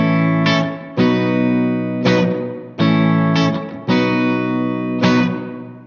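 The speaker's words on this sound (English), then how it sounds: "Setting 1 is the room reverb, and that's really just there to give a sense of existing in a space." Electric guitar through a Boss RV-2 digital reverb pedal on its room setting. A series of loud, sustained chords rings out about once a second, each trailing into a short ambient tail, with no talk.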